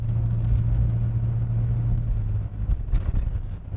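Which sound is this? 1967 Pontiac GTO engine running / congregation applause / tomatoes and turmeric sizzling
1967 Pontiac GTO engine running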